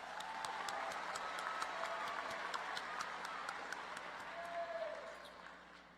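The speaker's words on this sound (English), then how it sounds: "Let's give them a round of applause." A large commencement crowd applauds the honor students, dense sustained clapping that rings out for several seconds before slowly tapering off.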